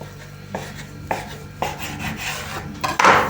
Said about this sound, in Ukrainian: Викладаємо на дошку і ділимо тісто на дві рівні частинки.